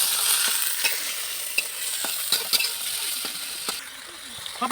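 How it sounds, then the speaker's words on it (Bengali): Onion and chilli fry in a pan with a continuous crackling sizzle, close up, with repeated sharp scrapes and taps from a stirring utensil at irregular intervals. "তারপরে পেঁয়াজটা ভাজবো।"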